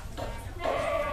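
Goats bleating in a farm pen, one short close bleat cutting through faint background noise.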